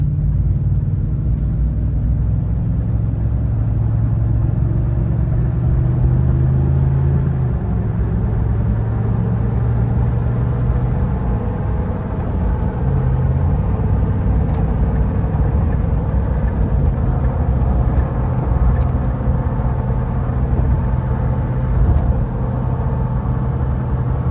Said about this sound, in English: Try to do a little bit of a smoother acceleration here. So it's going to be accelerating to 60.